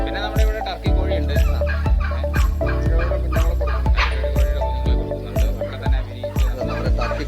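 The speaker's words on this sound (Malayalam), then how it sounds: "പിന്നെ നമ്മുടെ ഇവിടെ ടർക്കി കോഴിയുണ്ട്." A turkey on a farm, standing with its tail fanned, calls repeatedly in regular bursts roughly every half second, each a sharp, falling, throaty note, loud and close.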